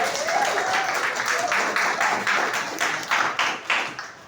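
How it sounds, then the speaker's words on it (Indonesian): Short burst of audience clapping during an Indonesian talk or seminar, several people applauding briefly over a speaking voice before the claps thin out and end. "kasih tepuk tangan untuk yang sudah"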